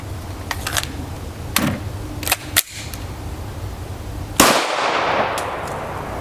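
Several sharp gunshots from an FN Five-seveN pistol fitted with an EFK Firedragon 7-inch barrel, spaced irregularly and ending with one loud, close report that rings out into a decaying echo.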